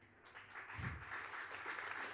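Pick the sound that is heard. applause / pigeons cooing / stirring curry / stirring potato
applause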